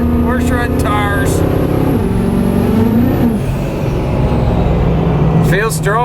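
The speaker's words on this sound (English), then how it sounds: "Alright, we're shredding tires." A diesel truck fitted with a new turbo revs hard while shredding its tires, a loud sustained engine drone with pitch swells and rising turbo whine, punctuated by sharp hissing bursts, with people talking over it.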